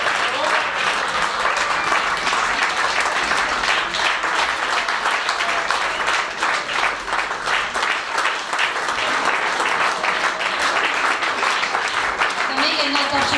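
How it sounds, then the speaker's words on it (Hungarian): A theatre audience at a children's theatre event applauds the artistic director of a drama group, dense steady clapping held at a constant loud level for over ten seconds. "Nagy tapsot szeretnék kérni Kritikus Szkepszi művészeti vezetőjének, Kolátos Fotiosznak"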